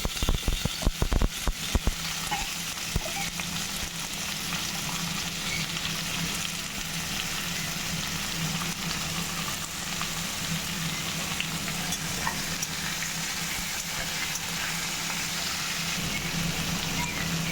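Taro and potato frying and being stirred in a pan for a homestyle taro dish, a steady close sizzle throughout with a burst of clattering stirring strokes in the first two seconds.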